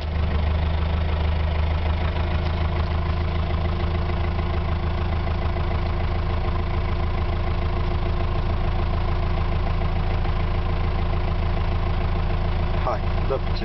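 A car's engine runs steadily at a low, even idle while the car is pushed along on an outdoor outing, droning continuously for the whole stretch as people talk over it.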